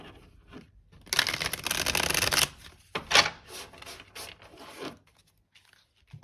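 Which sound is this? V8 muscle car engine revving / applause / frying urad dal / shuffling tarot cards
shuffling tarot cards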